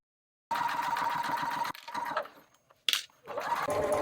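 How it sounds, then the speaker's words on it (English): A sewing machine stitches a straight pouch seam at close range in bursts, pausing briefly before running again, with a short sharp click partway through and no talking. "And now I'm going to be sewing straight down this edge at 3/8 of an inch."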